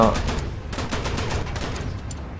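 War Thunder gameplay with loud rapid bursts of gunfire that rattle on without a break, while a voice is faintly heard underneath.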